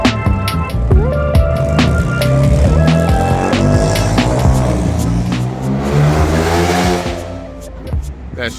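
Infiniti G35 with a VQ V6 engine revs and roars loudly up close, pitch climbing and falling through several sustained pulls, with rough tonal harmonics and brief sharp clicks.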